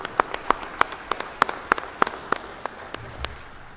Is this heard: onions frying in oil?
no